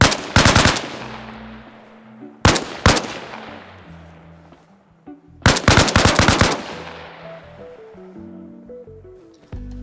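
Bursts of AK rifle fire in a video game, aimed at a Humvee: three loud rapid strings of shots, each followed by a long ringing decay and small tonal impact sounds.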